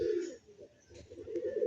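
Pigeons, including Andhra fulsira birds, coo in a loft: a close, soft, low coo that breaks off briefly and then resumes, with a faint chirp heard above it.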